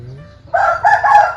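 A rooster crows loudly and close by, one strained, wavering cock-a-doodle-doo rising after a moment of quiet.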